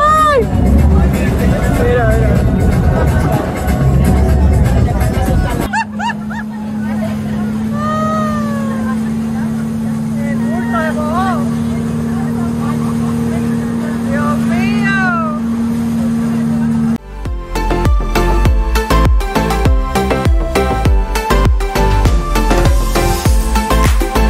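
Small motorboats pass on choppy bay water in Miami, with a steady low engine drone and lapping waves. People talk over it throughout, and wind and rougher water noise swell at the start and end.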